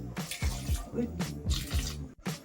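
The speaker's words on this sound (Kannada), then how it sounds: "ಬನ್ನಿ ಇವಾಗ ನೀರು ಹಾಕೋಣ" Water being poured into a mixer grinder jar while making carrot halwa, a close, steady splashing trickle with gurgling pulses and a brief gap near the end.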